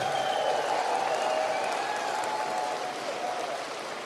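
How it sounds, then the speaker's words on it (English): Applause from a crowd at a Conservative political rally in Sault Ste. Marie, Ontario, a steady moderate wash of clapping mixed with cheering voices that fades a little toward the end. "Give them a big round of applause."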